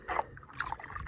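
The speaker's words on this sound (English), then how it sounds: "I'll pan it down a little bit more." Water sloshing and trickling in a gold pan as material is swirled down near a stream, a few close, soft splashes and dribbles with no talking.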